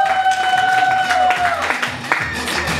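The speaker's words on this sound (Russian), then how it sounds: "Друзья, где же ваши аплодисменты?" Wedding guests clap together in a brief, steady burst of applause, with a tonal background sound and some voices mixed in.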